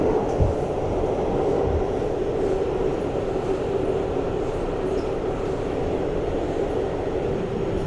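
An R211 D subway train runs with a steady, loud rumble and rolling wheel noise throughout, a continuous mechanical drone with occasional faint clunks and no clear speech.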